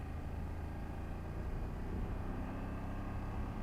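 A BMW F800GS motorcycle engine drones steadily with a low, even rumble while riding and engine braking, no distinct shifts standing out.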